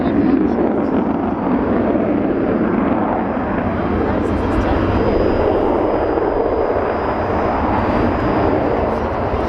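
The Avro Vulcan XH558 jet bomber at the Dunsfold Wings & Wheels air show in 2014 makes a continuous, powerful, rumbling jet roar that holds steady throughout at a loud, close level.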